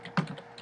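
A few quick keystrokes on a computer keyboard while entering a website address, soft close clicks in an irregular burst lasting under a second.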